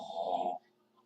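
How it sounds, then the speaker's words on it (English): Someone snoring nearby, a single harsh, buzzing inhaled snore lasting about half a second before cutting off to near silence. "Now somebody else is snoring."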